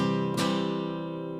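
A six-string guitar strummed once, a single bright chord ringing out and slowly fading over about a second, played alone with no talking.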